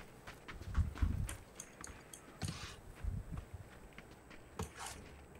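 Footsteps in a video game, a Tamil-language multiplayer match, come as soft irregular thuds and clip-clop-like steps at a moderate distance, scattered over quiet background hiss.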